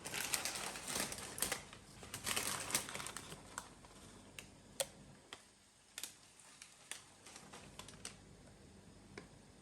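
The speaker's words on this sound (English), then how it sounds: "To seal this up, I just learned the time that I seal this up with aluminium paper." Aluminium foil crinkled and pressed down to seal a dish of koki beans: a close run of crisp, irregular crackles and sharp ticks, denser at first and then sparser, with no talking.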